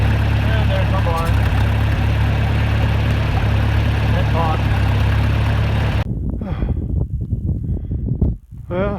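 A farm tractor idles outdoors, its steady, loud low engine rumble running for about six seconds before dropping away to quieter, uneven outdoor noise.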